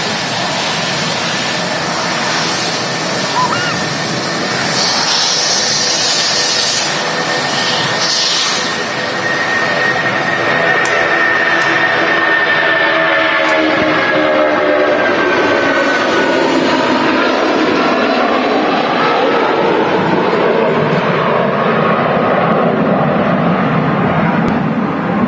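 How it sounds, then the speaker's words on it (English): A Jet2 Boeing 757 jet taking off at Manchester Airport, its engines giving a loud, sustained roar that swells and shifts in pitch as the aircraft passes, continuous for about twenty-five seconds with no talking. "Jet 2757 taking off now as well."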